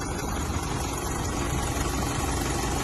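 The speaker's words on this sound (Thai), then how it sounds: "ติดเครื่องคันที่ไม่มีไฟนะครับ เดี๋ยวติดเครื่องให้ดูนะครับ" A car engine, started with jumper cables after its battery had gone dead, idles at a steady, even rumble throughout, close by and unbroken.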